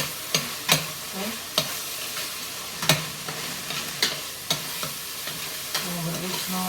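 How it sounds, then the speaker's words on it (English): Butter melting in a pan for nacho cheese hamburger helper, a soft steady sizzle broken by repeated sharp clicks and scrapes of stirring, fairly quiet and close, with no talk. "And melt your butter down."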